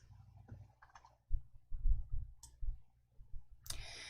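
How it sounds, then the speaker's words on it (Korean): A computer mouse clicking during work in an Excel spreadsheet, a few quiet, close clicks and soft taps spread irregularly over a few seconds. "병합 아이콘으로 클릭해 주세요."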